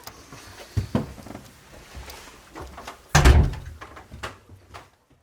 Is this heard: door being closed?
yes